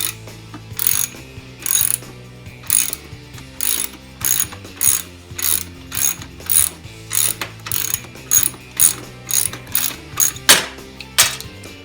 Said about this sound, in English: We're going to back that axle right out.